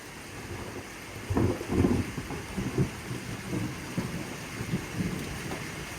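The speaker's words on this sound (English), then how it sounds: "Oh man, that thunder just went all the way across." Low rolling thunder from a Texas thunderstorm rumbles in several swells over steady rain and wind, moderately distant and sustained across the sky.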